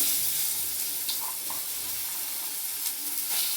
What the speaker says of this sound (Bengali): কালো জিরে দিয়ে দিলাম দু চারটে এই যে ডাল বাটাটা আমি দিয়ে দিচ্ছি